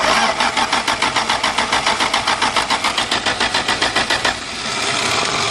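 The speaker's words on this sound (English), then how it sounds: "there's some cranking for you if you like that stuff" A 1977 Dodge Tradesman van with a slant-six engine cranks on a cold start, its starter chugging in a loud, even rhythm for about four seconds before it cuts off and a steadier running drone takes over.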